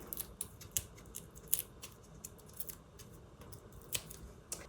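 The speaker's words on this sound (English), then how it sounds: "Then we'll just pop off the paper backing." Paper backing peeled and popped off Stampin' Dimensionals adhesive foam pieces for a die cut card, giving a quiet series of short crisp ticks and snaps spread irregularly across a low background hiss.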